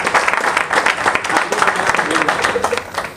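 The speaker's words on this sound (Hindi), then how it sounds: "तालियां तो बनती है सर।" Audience at a one-day leadership programme applauds loudly and steadily throughout, a dense wash of clapping from a nearby crowd.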